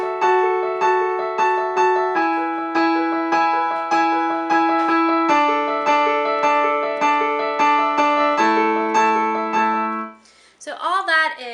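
High piano part for Keys 1 in a worship song: steady pulsing chords over a bass note that steps downward, loud and close, ending with a brief spoken voice.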